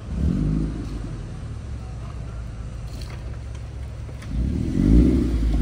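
The engine of a stock Toyota MR2 Roadster runs on a dyno, a loud low drone that rises at the start, settles, then swells again near the end, with faint voices in the background.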